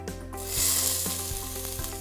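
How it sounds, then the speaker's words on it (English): Peppers sauté in olive oil over medium-high heat, a close, steady crackling hiss with a low hum underneath and occasional soft knocks from the pan. "sauteing the peppers in a little bit of olive oil that I have heating over medium-high"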